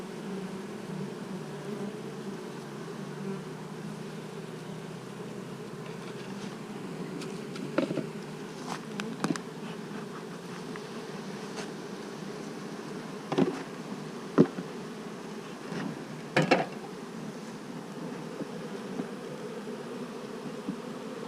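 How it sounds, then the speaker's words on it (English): Steady low insect buzzing of many bees, continuous and fairly close, with a few brief louder clicks and bumps near the middle. "Pretty impressive pile of bees here."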